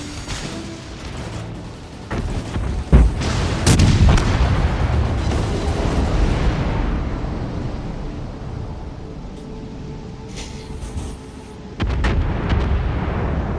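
Enemy ship guns fire in the naval battle game World of Warships Legends, a loud booming salvo with a sharp crack near three seconds, then rumbling blasts and roaring fire that fade before another heavy burst near the end.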